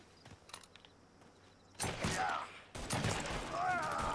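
Gunfire in the video game Mafia 3: two loud, sharp blasts a second apart, each with a lingering ringing tail, following a quieter stretch of faint clicks and background game sounds.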